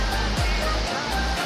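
A waterfall on the trail near Cubatão, Brazil, gives a loud, continuous broadband rush of falling water, steady and close.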